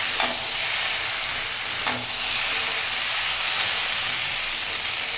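Wheat flour snack pieces roast in a pan with a steady sizzling hiss, while a few louder scrapes from the stirring spoon cut through near the start and just before the two-second mark.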